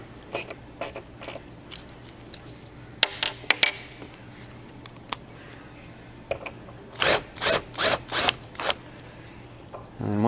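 A socket ratchet works a sunroof glass bolt loose on a first-generation VW Tiguan, giving scattered clicks and then a quick run of five or six sharp ratcheting strokes close up, with no talk over them.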